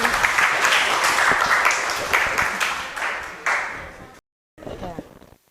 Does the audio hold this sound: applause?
yes